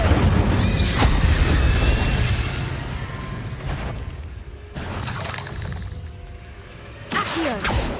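A fire spell cast in Hogwarts Legacy bursts out with a loud whooshing blast and crackling shatter, followed by further magical bursts and swells over a busy game soundscape.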